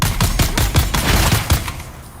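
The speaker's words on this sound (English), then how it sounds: "I think that's a shotgun." Shotgun fire in Dune Awakening, a rapid series of about eight loud, close blasts at a steady rhythm, each with a sharp crack and low thump, fading out at the end.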